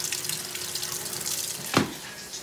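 Water runs steadily into a portable washing machine as it fills, a constant hissing flow with a brief louder splash or knock near the end.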